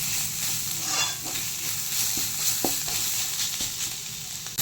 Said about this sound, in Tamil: இப்போ நம்ம இஞ்சி பூண்டு பேஸ்ட் போட்டுக்கலாம்.